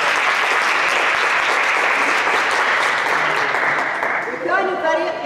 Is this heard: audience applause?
yes